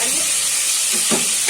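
Minced garlic sizzles in olive oil while being stirred in a pan: a loud, continuous hiss of frying with a couple of soft scraping strokes near the end.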